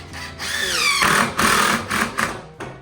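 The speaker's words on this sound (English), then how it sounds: "Drilling in the street." Loud, grinding power-tool drilling in the street in bursts, with a whining pitch that rises and then cuts in and out, fairly close by.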